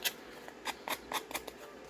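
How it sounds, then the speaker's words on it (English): Scissors are run down the edges of paper while crafting a grungy folio, giving a quiet series of short, crisp scraping strokes, about eight in under two seconds. "taking my scissors and just running it down the sides here"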